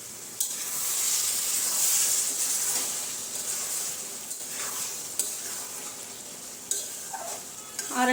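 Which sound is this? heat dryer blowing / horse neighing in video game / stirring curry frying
stirring curry frying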